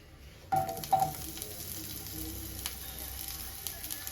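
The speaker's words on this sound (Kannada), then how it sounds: "ಇವಾಗ ಎಣ್ಣೆ ಕಾದಿದೆ, ಇದಕ್ಕೆ ಒಂಚೂರು ಈರುಳ್ಳಿ ಹಾಕೊಳ್ಳೋಣ" Onion hits hot oil in a pan for a chicken curry, starting with a sudden crackling sizzle and a few clinks, then settling into a steady, soft frying hiss.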